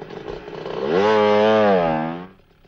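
A motorbike engine revs up from idle into a loud, steady buzzing drone held close for about a second before dropping away, with no talk over it.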